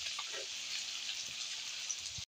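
Whole spices such as cloves, cardamom and cinnamon with garlic and ginger sizzling in a hot pan for chicken biryani, a steady close hiss of frying that stops abruptly at the end.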